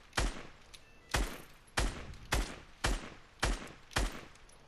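Seven loud, evenly spaced gunshots hit and break a built wall in Fortnite, each a sharp crack with a short decay, roughly one every half second or so, with no voices.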